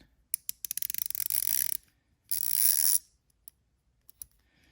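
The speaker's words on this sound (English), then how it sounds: "The ratchet. So I don't know, this thing's about 7 inches long, 90 tooth, quick release. Let's give it a listen." A Kobalt 90-tooth quick-release ratchet, about 7 inches long and from a cheap 50-piece tool set, is spun close up in two bursts of rapid, fine clicking, followed by a few isolated single clicks.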